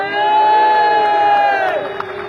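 A crowd of young people shouting and cheering at a Balochistan National Party political rally, a loud, sustained roar with long held cries rising above it, continuous for the whole stretch.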